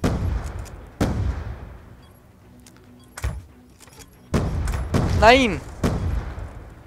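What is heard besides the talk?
gunfire in the video game Call of Duty: Black Ops 2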